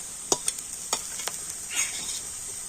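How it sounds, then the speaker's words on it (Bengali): Ginger, garlic, onion and green chilli fry in hot oil with a steady high sizzle, broken by a few sharp spoon scrapes and taps against the pan. "তো আদাটাও এখান থেকে আমি ভেজে নেব"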